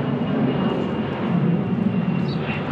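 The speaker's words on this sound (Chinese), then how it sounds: "经常能看到飞机从这个白塔上面飞过去啊" A fixed-wing airplane passes overhead about a kilometre from the airport beside the great white stupa in Nepal, its steady engine roar loud and continuous throughout with no talk.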